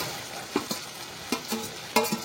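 Spiced masala and fried flour pieces being sautéed in hot oil, with a soft steady sizzle broken by several distinct scraping stirs of a spoon against the pan.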